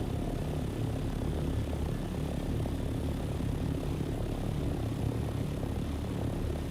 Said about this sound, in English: It's my pocket copter.